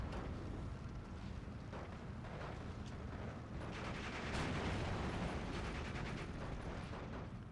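Artillery in the World War II strategy game Steel Division 2 pounds away in a rolling barrage of dense, overlapping blasts and rumbling impacts, continuous and loud with no talk over it.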